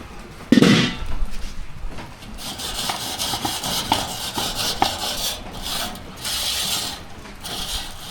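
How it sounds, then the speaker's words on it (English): Someone scrubs old grime off a surface up close with repeated rough rasping and rubbing strokes, steady and uneven, after one brief louder knock near the start. "first thing I need to do is scrub that old crap off."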